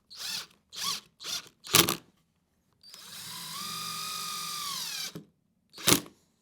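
A power drill driving a screw into a board during renovation of an abandoned house over 110 years old: several short whirring bursts, then one sustained two-second drive that slows near the end, and a final quick burst, close and clear.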